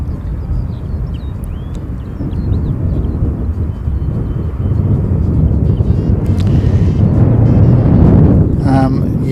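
A Jetstar airliner on the flight in from Hamilton arrives toward Sydney with a steady, broad jet roar that swells louder midway, mixed with gusty wind buffeting the microphone.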